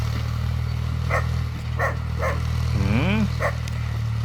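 A dog barks several times at a short distance over the steady low drone of a John Deere tractor engine idling, with a short whining yelp in the middle.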